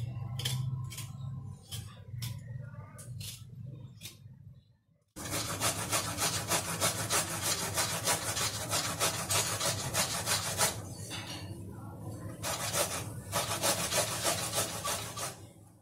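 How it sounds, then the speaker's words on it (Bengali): Ginger being cut with a knife for khichuri, first a few separate scraping strokes, then a long loud run of rapid rhythmic rasping cuts close up, no talking. "এই যে আদাটা কাটছি, একটু আদাই লাগবে"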